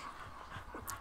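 A dog pants close by in quick, soft breaths, with a small whimper near the end, under quiet room tone.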